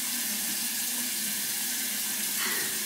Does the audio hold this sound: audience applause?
no